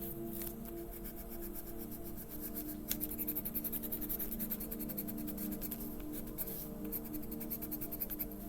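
Coloring on a page of dollar store coloring paper makes a continuous scratchy rubbing of a coloring tool worked back and forth across the sheet. The strokes are close and steady with a rapid rhythmic texture, heard alone with no talking.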